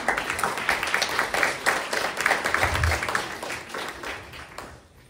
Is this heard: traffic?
no